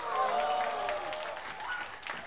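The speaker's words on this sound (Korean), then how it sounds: "박수 주세요." Audience applause at a comeback showcase is heard as a soft, continuous patter of crowd clapping, fairly distant, under a host's voice and background cheers.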